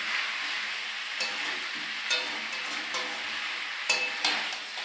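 Meat frying in oil in a pot, a steady close sizzle broken by a few sharp scrapes and clinks as it is stirred, with no talking.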